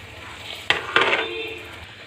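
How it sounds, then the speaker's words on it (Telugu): Coriander leaves being stirred into Telangana-style chicken fry in a pan: two quick scraping stirs with a clatter of the spoon against the metal over a low, steady sizzle. "కొత్తిమీర వేసుకొని కలుపుకుందాం ఈ విధంగా కలుపుకుందామండి"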